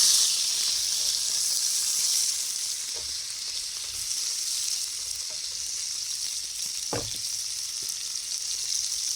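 Burgers sizzling in a pan outdoors in the woods at night, a steady hissing fry with a few soft knocks as the patties are flipped, close and alone without talk.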